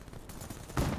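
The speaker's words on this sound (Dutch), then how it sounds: "ik schiet twee keer met mijn annihilator" Two loud gunshots from an Annihilator pistol in Call of Duty: Black Ops 3, set against a constant roar of game noise, with the second blast standing out sharply near the end.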